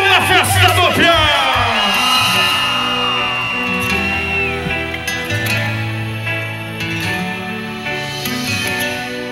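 A festival crowd at a rodeo event in Quissamã, Brazil, roars with loud whoops and yells over amplified music. The cheering is dense and close, rising in rising shouts at the start, then settling into a sustained, noisy hubbub.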